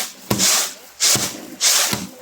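Mung beans pounded with a wooden tool to loosen the seeds from their pods, giving three evenly spaced thuds, each followed by a dry rustling scrape, close and fairly loud.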